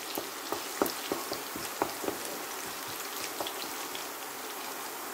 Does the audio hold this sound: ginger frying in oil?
yes